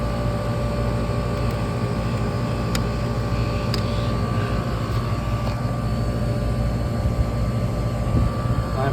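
A newly installed commercial HVAC condenser unit runs with its fan motor and compressor together, giving a loud, steady mechanical drone with a constant hum that carries unbroken from start to finish.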